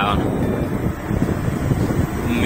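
Wind buffets the microphone while riding along a hilly road on a headwind stretch, a continuous low rumbling roar with a brief voice at the start.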